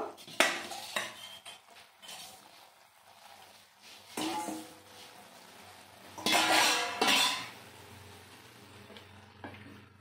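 Boiled eggs go into a pan of egg piyaji curry, with clattering of cookware and utensils and a few louder knocks. A soft sizzle and low hum of cooking sit underneath, and no one speaks.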